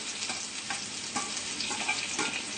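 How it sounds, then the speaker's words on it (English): Pounded chilies frying in oil for spicy tuna fried rice, a soft continuous sizzle with light stirring scrapes, close and fairly quiet. "we're gonna start frying the chilies that we have pounded."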